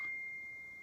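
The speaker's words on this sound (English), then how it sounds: "and that was my phone." A mobile phone gives a single steady electronic beep, a clear sustained tone lasting under a second, faint and alone with no talk.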